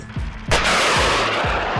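A Bradley fighting vehicle's coaxial M240C 7.62 mm machine gun opens fire after a brief pause, a loud, sustained burst that fills the rest of the moment with dense, booming gunfire.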